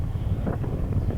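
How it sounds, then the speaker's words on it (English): Strong wind rushes across an exposed limestone hilltop, a steady low rumble of gusts buffeting the microphone with no voices. "It's very blustery up here"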